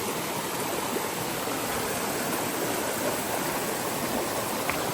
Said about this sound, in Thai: น้ำตกค่อนข้างแรงนะ